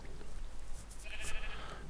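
A Minecraft sheep gives a short, faint bleat in the second half, under a low background hum.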